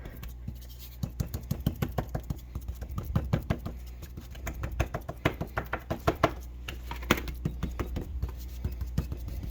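Hands pat garlic powder seasoning into a raw steak, a quick run of soft, dull slaps in uneven rhythm, close and clear with no talking.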